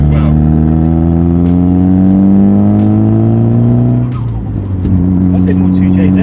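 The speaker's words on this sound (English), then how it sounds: "it's just like old school blow off valves" A Nissan Pulsar GTiR's turbo blow-off valve vents with a short breathy whoosh as the steady, loud engine drone drops off partway through, while voices talk inside the car.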